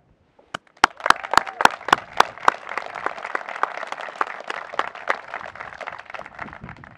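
Audience applause at a National Wildlife Refuge announcement program, beginning with a few sharp separate claps that swell into steady, dense clapping from a crowd and continue for several seconds.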